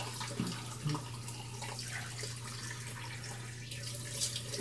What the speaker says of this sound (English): I kind of wrap it up with a little bit of cold water